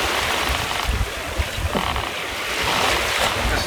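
Trailer sailboat under sail in light wind, heard from aboard: wash of water along the hull with steady wind buffeting the microphone, continuous and fairly loud, no talking.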